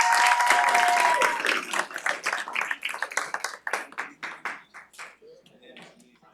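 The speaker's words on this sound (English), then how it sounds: "Big round of applause" Audience applause at a youth business pitch competition as a student team takes the stage, starting as a dense loud burst with a brief whistle-like tone, then thinning into scattered individual claps that fade out.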